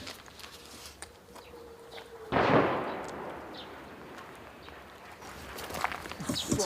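An incoming artillery round fired by Ukrainian forces bursts in a hot combat area: a single sharp boom that stands out from faint background noise, followed by a rolling rumble that slowly decays.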